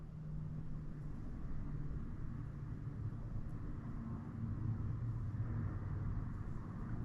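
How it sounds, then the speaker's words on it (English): Steady low road traffic rumble from outside drifts in continuously, a broad distant wash of passing cars with no distinct events, heard quietly behind an indoor workspace where a Shimano Caius B fishing reel is being serviced. "A lot of traffic out there right now, you hear that?"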